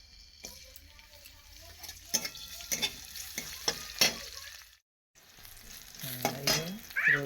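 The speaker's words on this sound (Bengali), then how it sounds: "এই যে রসুন কাঁচা লঙ্কা ভাজা হয়ে গেছে।" Garlic and green chillies sizzling in a pan, crisp frying hiss with repeated sharp metal spatula taps and stirring, a brief silent gap midway, then the sizzle returns louder with faint voices in the background.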